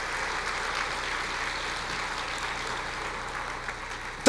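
A church congregation gives a steady, faint wash of applause for God that sounds distant and even, with no voices over it, and ends in a sharp knock.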